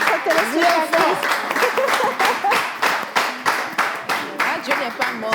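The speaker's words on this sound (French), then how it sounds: "Est-ce qu'on peut applaudir notre téléspectatrice?" A studio audience claps for a TV viewer, loud rhythmic applause with distinct rapid hand claps pulsing steadily, while a voice carries on talking over it.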